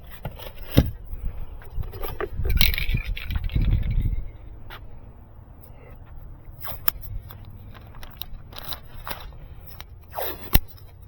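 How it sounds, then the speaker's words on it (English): Tape being pulled and torn while masking around a 2013 Honda Pilot headlight during restoration, a rough ripping burst for several seconds followed by quieter scattered crinkles and a sharp tear near the end, no talking. "I'm just gonna tape it up."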